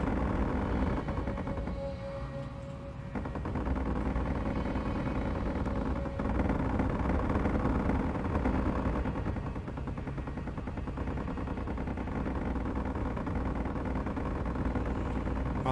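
Dense, continuous gunfire in the Space Engineers video game, aimed at floating wreckage. It roars steadily and loudly for the whole stretch with no pauses, layered with low engine-like rumble.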